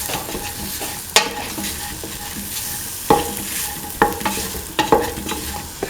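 Spices are stirred into a sizzling okra, chickpea and coconut milk stew, with steady scraping strokes and occasional clacks of the spoon against the pot over a constant frying hiss.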